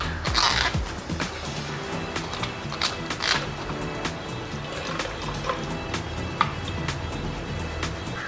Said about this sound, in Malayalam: അരിപ്പയിലോട്ട് അരിച്ച് ഞെക്കിയെടുക്കാം.